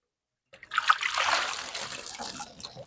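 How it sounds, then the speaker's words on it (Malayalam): Water gushes and splashes steadily out through a narrow sluice outlet from a field, a close, continuous pouring sound that starts abruptly and carries on without talk. "ഇവിടുത്തെ തൂമ്പി പുറത്തോട്ടാണ് വെള്ളം ഒഴുകുന്നത്"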